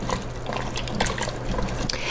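Leek, onion, potato, garlic, thyme, bay leaf and asparagus stirred in an Instant Pot on saute, a busy wet sloshing and scraping texture with clinks of a utensil against the metal insert, steady and close.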